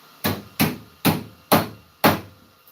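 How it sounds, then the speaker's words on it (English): Hammer blows land on tailgate sheet metal in a garage, five sharp, evenly spaced strikes about half a second apart, loud and close with no talking. "Give her a couple of things with the old hammer and get her encouraged to go back where it needs to go."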